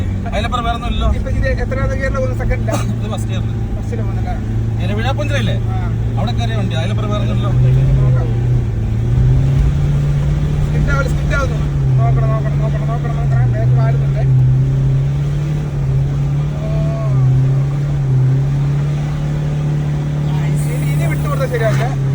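A Toyota Innova engine strains up a steep, newly made road, a steady low drone rising in pitch as it revs. Voices talk over it throughout.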